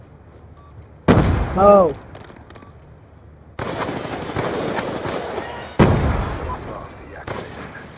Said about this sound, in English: I just popped off 3 bullets when I shot.